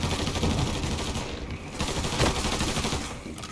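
Machine-gun fire in the crime shooter Mafia 3, a dense, continuous rattle of rapid shots that runs the whole time at steady loudness with brief dips, close and without speech.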